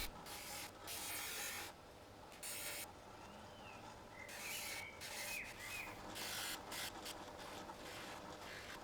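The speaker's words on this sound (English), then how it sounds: "Back to the buffing machine to give all the brasswork a quick polish." A buffing machine polishing the brass fittings of an 1800s antique wooden plane, a steady rubbing whir that comes and goes in several bursts as the part is pressed to the wheel, fairly quiet and close.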